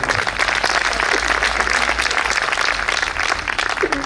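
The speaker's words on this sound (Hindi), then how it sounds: "थोड़ा सा तालियां बजा, मस्ती कर।" An audience at a Hindi comic poetry show claps in a thick, continuous burst of many hands, loud and steady throughout with no speech over it.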